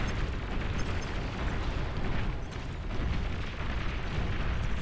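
In the strategy game Beyond All Reason, Pounder units blast Pawns, producing a dense, continuous wash of rumbling explosions and booms that overlap into a loud roar with no pauses.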